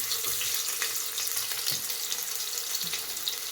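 Onions sizzle and hiss in about four spoons of hot oil in a pressure cooker, a steady, close frying crackle with occasional stirring.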